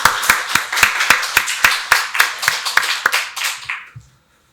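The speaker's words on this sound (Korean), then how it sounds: "주님께 박수로 영광 돌리겠습니다." A Korean church congregation at a Sunday worship service claps in unison, a loud, even run of about fifteen sharp beats at a brisk tempo that stops abruptly.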